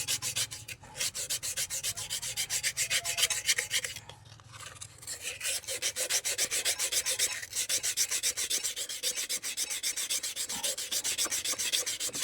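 Steady, rhythmic rasping of sandpaper scrubbing rusty metal on a motorcycle part, continuous strokes with a brief pause midway, close and fairly loud.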